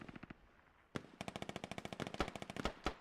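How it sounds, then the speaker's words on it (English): Rapid machine-gun fire crackles in a military skirmish video game, a short burst, a brief pause, then a long fast string of sharp shots ending in a few louder cracks, heard alone. "He's going to get shot by Pliskin there."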